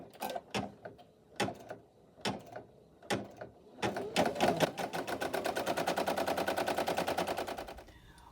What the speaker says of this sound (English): press the green button to start the machine. And this is going to stitch out the second half of the placement stitch